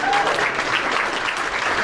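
An audience bursts into sustained applause, a dense wash of many hands clapping at an even, full volume throughout.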